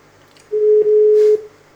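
A single steady call tone sounds through the speakerphone of a 42-euro Android 2-DIN car stereo with a 9-inch screen. It is fairly loud, lasts just under a second and plays alone with no talking.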